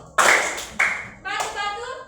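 Children's group clapping in the tepuk batu game in a classroom: two sharp bursts of many hands clapping together, followed by a voice calling out.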